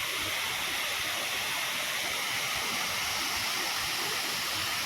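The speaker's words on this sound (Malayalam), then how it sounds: "അവിടെ നമുക്ക് കാണാൻ സാധിക്കുന്നുണ്ട് നമ്മുടെ ഞണ്ടിറുക്കിയ വെള്ളച്ചാട്ടം" Njandirukki waterfall at Velliyamattom roaring steadily as a dense, unbroken wash of falling water, loud and close with no pauses.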